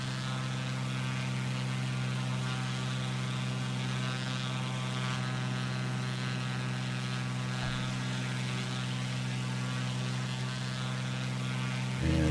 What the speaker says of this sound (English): I'm flying a Cessna 182T here.